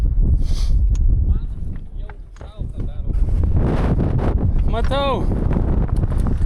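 Wind buffets the microphone with a steady low roar throughout, while several people talk over it outdoors.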